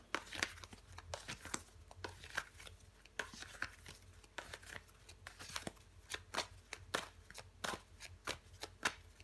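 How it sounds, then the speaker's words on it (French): Tarot cards are turned over and handled with quiet, close, irregular papery flicks and soft slaps in quick repeated bursts. "je recouvre des cartes"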